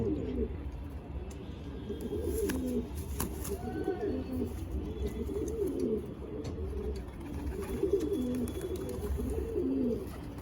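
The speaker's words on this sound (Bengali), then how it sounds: "এটা দোয়াশ পায়রা, বাংলাদেশি দোয়াশ" Deshi Doyash pigeons coo steadily in a loft, several overlapping low rolling calls repeating through the whole stretch over a constant background hum, fairly close.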